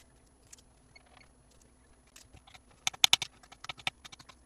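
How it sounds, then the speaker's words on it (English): A knife cores, seeds and dices a bell pepper on a cutting board, a run of sharp, close chopping taps that speeds into a quick cluster and then several more spaced cuts, with no talk over it. "So we're going to core, de-seed, and dice the bell pepper."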